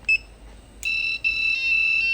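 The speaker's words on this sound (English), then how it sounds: "plays that little tune and the relay engaged on the board" Electronic door keypad playing a short electronic tune after accepting a code, a brief beep followed by a sustained series of bright, clear tones, close and fairly loud in a quiet room.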